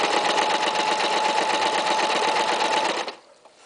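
A sewing machine stitches a curved seam without pins, running as a loud, fast, steady mechanical whir close by for about three seconds before stopping abruptly.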